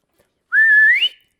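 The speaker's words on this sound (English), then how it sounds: "He whistles out." A single rising whistle from a man, loud and close, lasting about half a second, rising at the end and then cutting off, with silence before and after.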